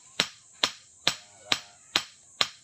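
Six sharp, evenly spaced hand-hammer blows strike a workpiece in a steady rhythm roughly half a second apart, each a bright close crack with a quick decay, with no voices.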